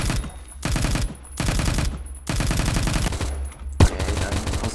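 Rapid bursts of automatic gunfire from guns in the Phantom Forces shooter game, loud and close, coming in repeated strings separated by short gaps, with one sharp single shot near the end.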